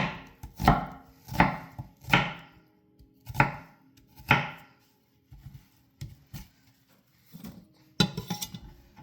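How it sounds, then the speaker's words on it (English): A knife chops an onion on a cutting board in a steady run of about eight sharp, close, loud strikes, then a few quieter, scattered cuts and a final cluster of quick chops. "Every time I make a chop, my fingers are moving backwards."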